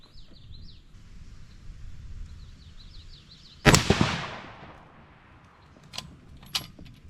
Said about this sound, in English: Let's go ahead and shoot a group, just see how it groups up.